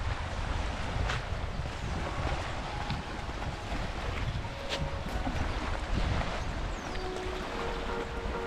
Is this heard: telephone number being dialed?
no